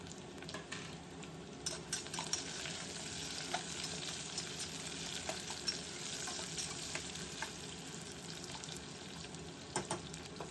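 Carrots and beans fry with browned onions in a pan, giving a steady, fairly quiet sizzle with scattered stirring clicks throughout and no voices.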